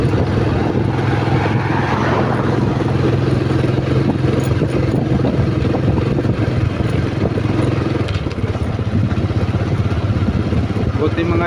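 A motorcycle engine drones steadily close by throughout, with rumbling road noise and no pauses.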